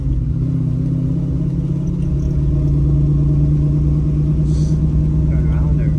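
A 1967 Chevrolet Camaro RS SS with a 383 engine and five-speed gearbox rumbles steadily from inside while driving, a loud low drone that continues as people talk briefly.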